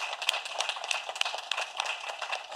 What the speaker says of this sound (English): So just a round of applause to Michelle.